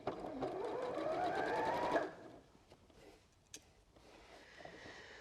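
A sewing machine runs steadily along a seam of a fat quarter tote bag for about two seconds, its motor whine rising, then stops, leaving faint handling noises.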